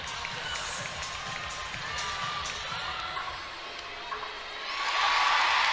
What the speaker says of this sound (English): Great hand by the PMAC crowd.